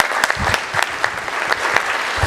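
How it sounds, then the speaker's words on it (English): Brief applause for a city councilor at a police and citizens award event, a smallish crowd clapping close by with distinct individual claps audible in an uneven patter. "Round of applause."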